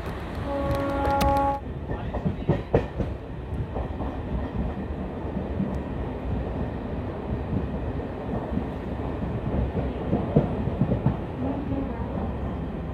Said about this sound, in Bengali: ট্রেন এসছে আমাদের 4 নম্বর প্ল্যাটফর্মে